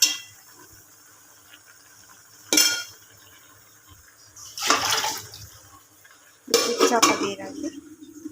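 A metal lid clanks onto a cooking pot of potatoes and greens in a home kitchen, sharp clattering bursts of metal against metal separated by quiet pauses, close by and loud against a soft background.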